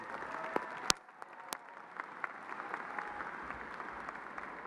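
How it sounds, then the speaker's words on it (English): A high school graduation crowd applauds the class of 2018 seniors in a large venue, sustained clapping from many hands with a few sharp close claps standing out, fairly distant and even. "Give yourselves a round of applause"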